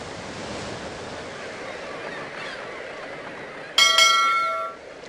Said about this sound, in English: The wind is whisking by to the west.